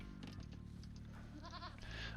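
Goats bleat in short wavering calls over a steady, loud game soundtrack with low drones, on a multiplayer strategy game map during a team battlegrounds match.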